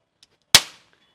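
A homemade string firecracker, a thread cracker, pops when its string is pulled: a single sharp, loud crack with a short fading tail in otherwise near silence.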